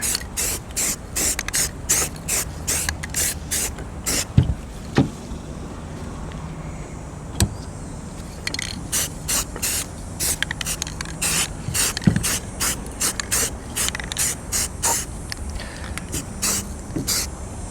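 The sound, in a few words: spray painting a rifle green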